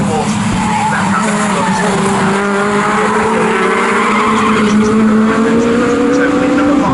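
A pack of Legends championship race cars roars around the Snetterton circuit, engines droning loud and close with rising revs, while a commentator talks over the racing throughout.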